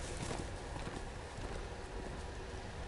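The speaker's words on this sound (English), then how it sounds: "Your horse going mental." Horse hooves galloping in the Telltale Game of Thrones video game, a dense, fast clatter of hoofbeats with no break, steady and fairly loud throughout.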